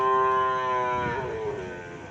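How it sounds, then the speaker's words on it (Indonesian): Cattle gathered at a racing field in Pamekasan let out a single long, loud moo, starting clear and sliding down in pitch before fading. "Dan banyak sapi-sapi yang lainnya."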